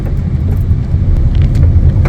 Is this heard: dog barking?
no